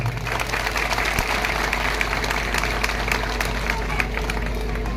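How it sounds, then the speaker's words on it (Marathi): A crowd at a statue unveiling ceremony applauds to welcome the Mahaswamiji, dense sustained clapping with a low rumble of hum and murmur underneath, loud and continuous throughout. "महास्वामीजींचं आपण टाळ्या वाजून आपण स्वागत करूया"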